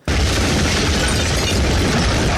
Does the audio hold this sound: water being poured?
no